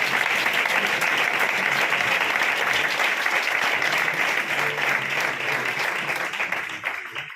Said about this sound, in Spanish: Vamos a darle un aplauso a la palabra.